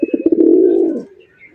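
A pigeon coos close by, a few quick throaty pulses rolling into one loud, sustained low coo that fades out, with no voices.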